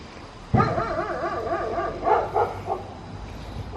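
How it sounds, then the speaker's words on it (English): Dogs in a garden howl and whine in a wavering, sustained chorus, starting with a sharp bark and continuing with several rising and falling yelps, moderately close, with fireworks going off somewhere in the distance. "Sorry for the dogs"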